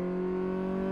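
A car in the video game Car Mechanic Simulator 2014 accelerates during a quick test drive, its engine giving a loud, steady, tonal whine held through the whole second with no voices.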